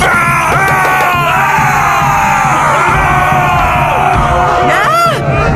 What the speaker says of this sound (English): Running around and shouting.